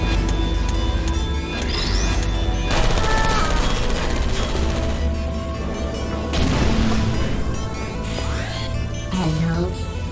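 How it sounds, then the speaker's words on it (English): Turrets firing in the video game Portal: dense, loud bursts of rapid automatic fire that run almost continuously, with short breaks and game effects mixed in. "Keep moving those turrets around."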